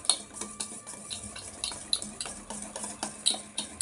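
A spoon stirs dhokla batter in a bowl, brisk repeated scraping and tapping strokes against the sides in a steady rhythm, close and fairly quiet.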